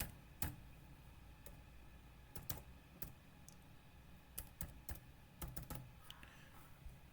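Keys clack on a computer keyboard in irregular bursts of sharp clicks with short pauses between them, close and fairly quiet, with no talking.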